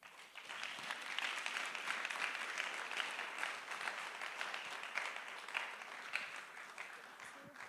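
A youth fellowship audience claps for a speaker, with a steady, fairly distant round of applause building quickly and continuing with scattered sharper claps throughout.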